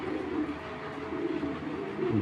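Low, murmuring coos of racing pigeons repeat steadily over a dense, noisy background, fairly close and continuous throughout.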